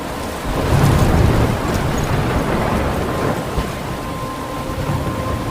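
Rumbling thunderstorm in the game Life is Strange, a broad roar of wind and rain with a low thunder swell early on, steady and fairly loud throughout.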